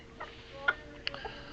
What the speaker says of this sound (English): He's a rooster.